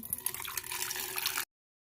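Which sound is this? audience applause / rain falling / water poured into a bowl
water poured into a bowl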